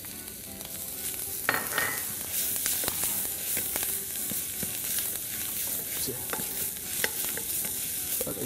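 Tomato paste being stirred into a sizzling sauce in a pan, a steady frying hiss under repeated scraping and clinks of the spoon, close and moderately loud, with no talking.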